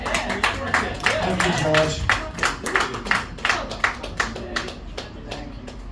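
A small audience at a conversation event applauds with scattered, uneven hand claps that blend with talking voices and thin out toward the end.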